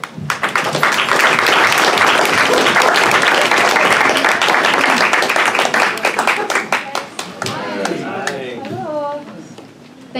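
A seated audience at a candidate forum on local poverty solutions bursts into a full round of applause, dense clapping for about seven seconds before thinning out as a speaker's voice comes in over the fading claps.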